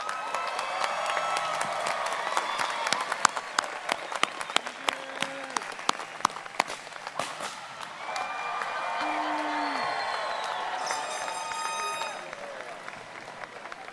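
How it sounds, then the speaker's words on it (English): A commencement crowd applauds its 2019 graduates with sustained clapping, scattered whoops and cheers, and voices calling out over the steady roar. "Please join me in a round of applause for all of our graduates"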